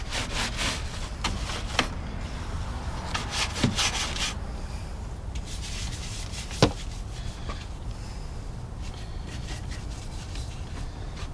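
A brush scrubs steadily inside the engine bay of a BMW E38, giving a continuous close rubbing sound broken by a couple of sharp knocks, with no talk.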